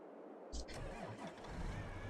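A tractor engine in a farming simulator game cranks and catches, then settles into a steady mid-pitched rumble with a faint rev, heard under ongoing talk.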